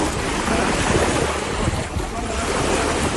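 Open sea surging around a large 85-foot luxury yacht as it sinks just after being lowered by crane, a dense continuous roar of waves and wind buffeting the microphone, loud and close, with no voices.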